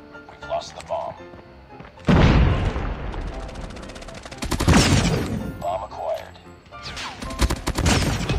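Rapid KSP45 burst fire rings out in an online shooter game, with repeated sharp shots and booming impacts mixed over game sounds while a voice talks excitedly.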